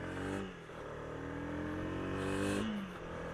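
A Honda CB300R 300cc motorcycle accelerating hard in first gear, its engine note climbing steadily with a brief dip near a shift, loud and close with no talking.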